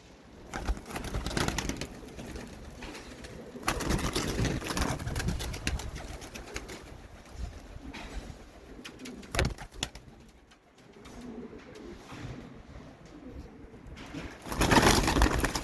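Pigeons at a live bird auction coo steadily in a low, throaty murmur over a busy, noisy background, with a few sharper rustles and thumps along the way.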